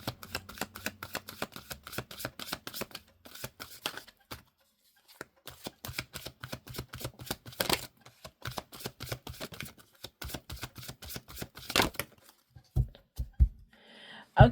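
A deck of tarot cards is shuffled by hand at close range, with rapid runs of crisp flicking riffles broken by short pauses and a few louder taps.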